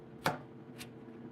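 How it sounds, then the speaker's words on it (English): A few sharp knife chops on a cutting board, one distinct strike followed by two softer ones, close and fairly quiet. "I'm just chopping up tomatoes."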